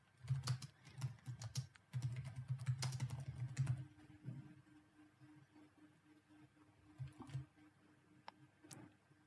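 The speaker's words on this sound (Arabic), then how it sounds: "خلينا نكتب أي نص بالجي edit" Typing on a computer keyboard while entering text in the gedit editor under Ubuntu: quick bursts of close, crisp key clicks for the first few seconds, then sparse isolated taps over a faint steady hum.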